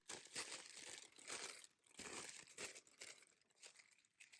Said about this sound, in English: I carefully unfold and open the tissue paper.